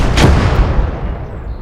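A tank in the World War II strategy game Gates of Hell takes a shell hit, a loud close boom with a sharp impact crack that rolls off into a long rumbling decay, no voices.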